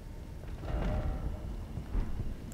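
Thunder from a storm in the video game Elden Ring rumbles low and fairly faint, swelling twice over a steady hiss of rain, with no voices.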